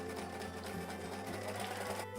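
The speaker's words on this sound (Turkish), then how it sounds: "biraz önce terlediğim kısımlardan dikiş makinesiyle geçiyorum bu sefer" A sewing machine stitching a blouse, running steadily with a fast mechanical whir and rattle throughout, close up and alone.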